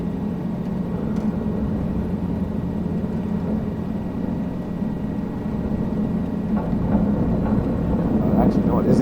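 A helicopter flying and then hovering over Tokyo in a flight game, a steady low droning rotor and engine hum that grows slightly louder near the end.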